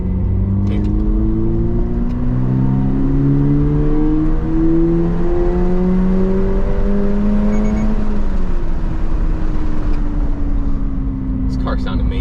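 A bone-stock Toyota GR86/Subaru BRZ sports car engine revs loud and close, its pitch climbing steadily through the gears, then easing and settling into a lower steady drone with a faint rush of road noise.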